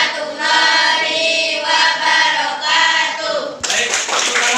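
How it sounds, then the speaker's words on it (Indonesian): Classroom audience of ninth-grade students applauding a group's presentation, dense continuous clapping filling the room for several seconds, with a brief shift in texture near the end. "tepuk tangan untuk penampilan kelompok Cerdain"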